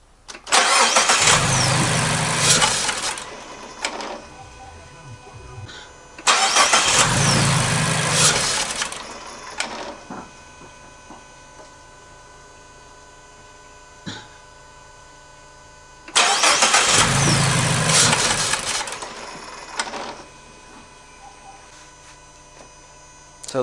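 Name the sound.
car engine starting and stalling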